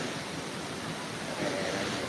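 Kuang Si waterfall in Luang Prabang, Laos: a steady, even roar of rushing and falling water fills the whole stretch, a broad hiss with no breaks and no voices.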